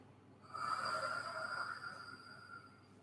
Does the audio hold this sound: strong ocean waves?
no